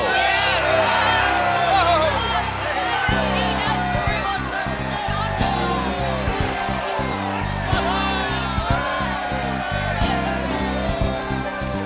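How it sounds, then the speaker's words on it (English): An animated crowd at Jericho shouts, whoops and cheers together in a loud, continuous roar of many voices, with short pauses and bursts throughout. "Shout, yell, scream, so that the heavens can hear you."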